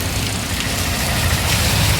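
Rain falls over Deglur town in a dense, continuous wash of hiss with a low rumble underneath, steady and close throughout.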